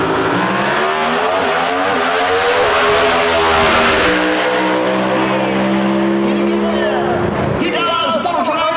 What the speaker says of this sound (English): Incredible drag race.